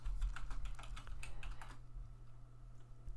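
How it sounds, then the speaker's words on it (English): Rapid, light keystrokes on a computer keyboard, a quick irregular clatter up close for under two seconds before fading to quiet room hum. "typing in something here"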